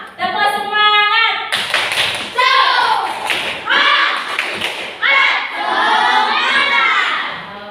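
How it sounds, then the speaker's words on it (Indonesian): A class of schoolchildren performs the 'tepuk semangat' clapping chant, bursts of rhythmic hand claps in short phrases mixed with loud shouted chanting voices, close and energetic. "Nah, tepuk semangat."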